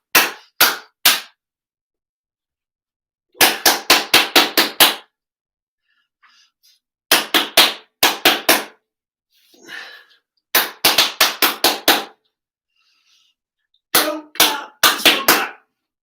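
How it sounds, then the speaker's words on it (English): Children in a music lesson clap rhythms back in short bursts of sharp, crisp claps, three to six at a time, separated by pauses, with faint quiet sounds in the gaps. "we're going to start off some clapping games"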